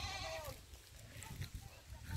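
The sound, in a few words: goats bleating in a pen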